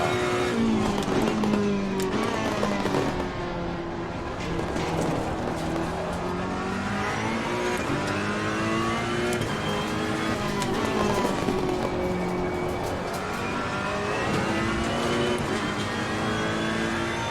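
Race car engines roar around Brands Hatch in Assetto Corsa Competizione, a loud, continuous whine of revving and upshifts with pitch sweeping up and down, plus faint tire noise and nearby cars.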